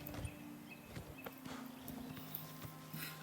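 Hooves of a horse clip-clop at a steady walking pace in a video game, fairly close and soft, with a few sharper knocks over a faint low hum and no talking.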